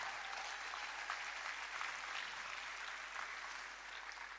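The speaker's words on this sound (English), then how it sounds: "Yes, definitely clap for them." A rally crowd applauds steadily, a dense wash of many hands clapping at moderate distance, sustained throughout without any voices standing out.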